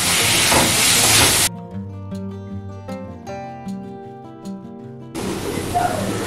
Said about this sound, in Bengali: এখন 2 মিনিট এইভাবে নাড়াচাড়া করে একটু ভাজা ভাজা করে নিতে হবে।